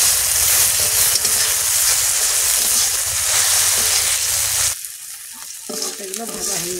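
Ingredients fry in a hot pan with turmeric, giving a loud, steady sizzle with stirring throughout, then a sudden drop to a quieter, thinner crackle near the end.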